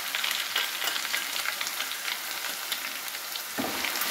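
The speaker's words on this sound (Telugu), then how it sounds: "ఇవి ఆవాలు, జీరా అండ్ ఎండుమిర్చి గింజలు మంచిగా ఫ్రై అయిన తర్వాత కొంచెం ఎల్లిపాయ పేస్ట్ వేసుకోవాలండి" Garlic paste frying in hot oil with mustard seeds, cumin and dried chili seeds, a steady close sizzle with crackling pops for a pickle, joined near the end by a brief louder burst.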